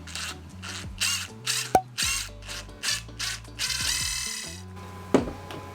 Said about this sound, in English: So this is a 13/16 deep socket